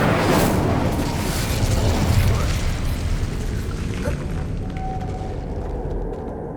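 The Incendio fire spell cast in Hogwarts Legacy, a loud roaring whoosh of flame that bursts out and fades over several seconds, with speech underneath.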